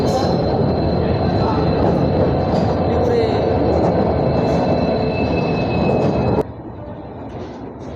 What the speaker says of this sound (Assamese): ট্ৰেইনখন আহি পেলাই এয়া চাওক